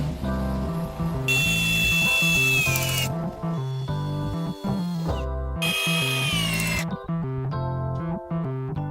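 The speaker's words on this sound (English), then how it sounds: "the workers skillfully use power drills and long screws to firmly anchor each of these rafters to the supporting beams" A power drill drives long screws into wooden rafters, whining in loud bursts that stop and restart, with clattering tool and wood noise between runs; no talk.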